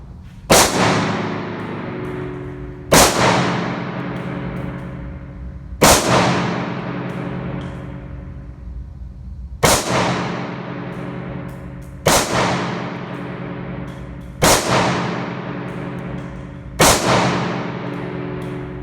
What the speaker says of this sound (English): We got Jack with the Ruger 57.